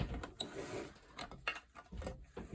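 A sewing machine stay stitches around the edge of a jeans pocket. It makes a series of short mechanical clacks and ratcheting bursts in an uneven rhythm, close and moderately loud, with no voices.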